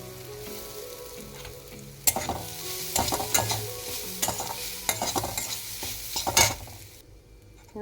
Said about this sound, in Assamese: নাৰিকলখিনি কেঁচা ভাৱটো নোহোৱাকৈ মই এইখিনি ভালদৰে ভাজি ল'ম।